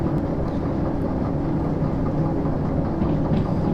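A heavy train rolling along in the railway simulator Derail Valley: a steady, loud low-pitched rumble and drone of locomotive and wagons, continuous and even throughout, with no talk.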